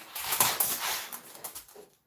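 Dogs whimpering and whining indoors during a very cold spell, soft high-pitched cries rising and falling in several short bursts, fairly close and moderately quiet, fading out at the end.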